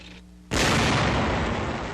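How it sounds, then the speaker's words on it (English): A WW2 tank destroyer fires its main gun during street combat in France, 1944: a single sudden, loud blast after a quiet moment, followed by a long, heavy rolling rumble that stays strong to the end. "A tank destroyer goes into action."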